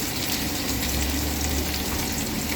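Chopped onions hit well-heated oil for a beetroot and meat curry, giving a steady, dense sizzle and hiss that holds evenly throughout with no voices.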